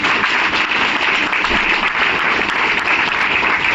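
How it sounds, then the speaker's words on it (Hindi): Audience applause at a meeting, a loud, dense and continuous wall of clapping from many people, steady in level for several seconds with no pauses. "एक जोरदार ताली होनी चाहिए।"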